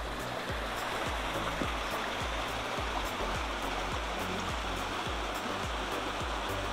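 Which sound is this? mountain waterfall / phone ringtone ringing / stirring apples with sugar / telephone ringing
mountain waterfall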